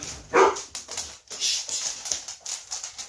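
A dog gives a quick bark, then whines and whimpers in short bursts close by, with light scuffling between sounds.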